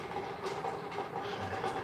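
Railway station ambience with a steady train rumble and clattering rail noise, a continuous moderately loud wash of mechanical sound with no voices.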